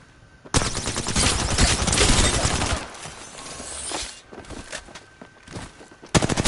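An Alternator gun fires in a competitive video game match, a sustained rapid stream of loud close shots that gives way to sparser impacts, clatter and footsteps, with a sharp burst at the very end.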